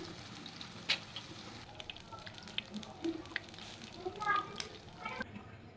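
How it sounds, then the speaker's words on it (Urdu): Aloo tikki potato patties fry in a pan of oil with a soft, steady sizzle and faint crackles, low in level, while a person talks over it. "2 سے 3 منٹ لگیں گے اس کی ایک سائڈ کو فرائی ہونے میں"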